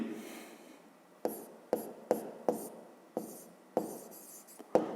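A pen writing on paper during a fifth-grade maths exercise, sounding as a run of quick, close scratchy strokes with brief taps and pauses between them, quiet and without other sound.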